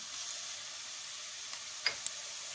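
Tomato paste sautéing with onions in a pan for green lentil noodle soup, a steady soft hiss of frying with a couple of small pops, heard alone without talk.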